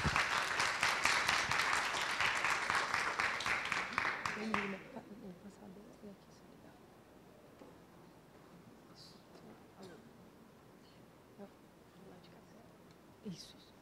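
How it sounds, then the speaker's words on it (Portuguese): An audience at a deep tech forum applauds a startup presenter walking on stage, a strong burst of clapping that stops abruptly after about five seconds, leaving quiet room noise and faint shuffling. "Uma salva de palmas."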